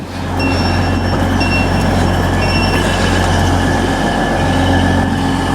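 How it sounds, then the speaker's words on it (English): A train heading for Huddersfield rumbles steadily along the railway, a continuous loud low drone with faint high wheel squeals over it, no voices. "You can just see our train there in the distance heading for Huddersfield."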